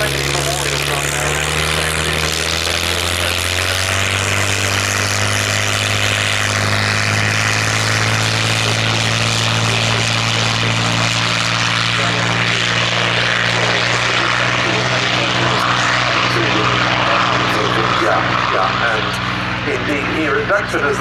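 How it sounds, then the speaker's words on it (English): A Supermarine Spitfire PR XI takes off at Duxford, its loud propeller engine droning steadily with a rising, sustained roar as the aircraft gets airborne, while a commentator talks over it. "Here at Duxford as the Spitfire PR-11 gets airborne, our final item of the day."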